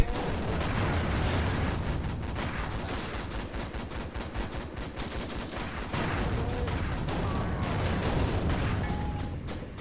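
Tank gunfire from the Steel Fury combat game, with a 2-pounder gun firing amid a dense, continuous wall of battle noise, engine rumble and repeated shots, loud and unbroken throughout, no speech heard.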